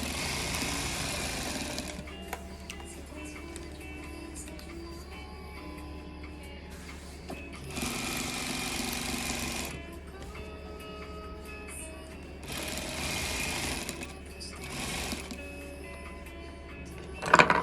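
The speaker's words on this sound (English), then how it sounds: "I like to sew from the top part, not the border part, but the actual cushion side." Sewing machine stitching a seat-bench cushion, the motor running in several loud steady bursts of rapid stitching separated by quieter pauses with small clicks and handling noise.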